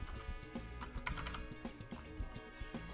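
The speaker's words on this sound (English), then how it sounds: "I will type length" Keys clatter rapidly on a computer keyboard while text is entered into a CAD drawing note, a close, uneven run of sharp clicks with no talk over it.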